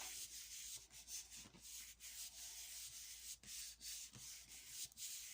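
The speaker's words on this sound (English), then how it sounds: "So we'll go in with our card, give it a rub." A piece of card rubbed across a gel printing plate, making soft rhythmic scratchy strokes that swell and fade repeatedly, quiet and close with no talking.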